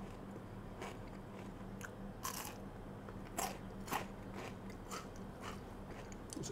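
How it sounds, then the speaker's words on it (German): Crisp fried German potato pancakes (Reibekuchen) are bitten and chewed close to the mic, giving several sharp crunchy bites and crackles over a quiet background with no talking. "nehme ich einfach mal einen aus der Mitte und beiß da einfach mal so rein"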